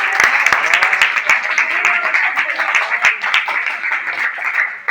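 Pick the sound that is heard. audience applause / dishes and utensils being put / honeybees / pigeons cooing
audience applause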